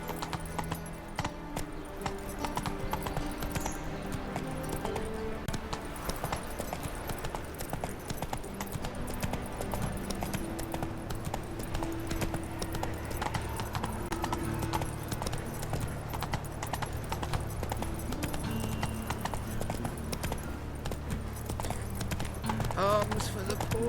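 In The Witcher 3: Wild Hunt on Xbox One, a horse's hooves clip-clop in a steady, continuous gallop rhythm for the whole stretch, with game voices talking over the hoofbeats.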